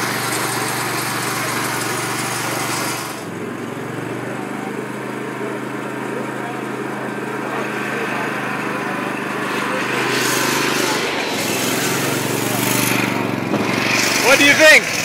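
A 10kW generator set engine running at a steady drone with a low hum and some mechanical vibration, holding an even level throughout, with a brief dip early on and rising rattles toward the end.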